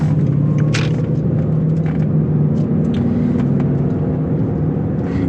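A Land Rover Range Rover on Cooper Discoverer AT3 all-terrain tires slows for a turn, giving a steady, loud interior rumble of engine and tire drone with a low hum throughout and no talking.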